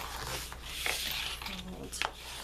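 Paper folded by hand for a gatefold gift box: close, soft rubbing and creasing swishes with a few sharper crinkles, over a low background hum.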